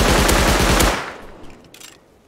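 A loud, rapid burst of automatic gunfire in the video game Rust that stops abruptly, leaving a fading echo and faint distant noise.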